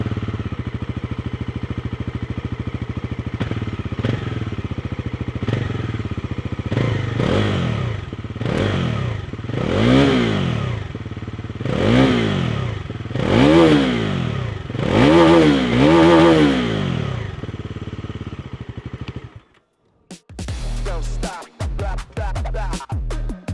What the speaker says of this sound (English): when you crank up the engine, it sounds different, and so it does while flying by